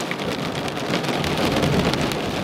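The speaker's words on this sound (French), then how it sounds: "Je me suis fait claquer l'orage à 2 cm de moi quoi." A thunderstorm pours heavy rain in a steady dense hiss, with a deep rumble of nearby thunder rolling underneath, loud and continuous with no talk.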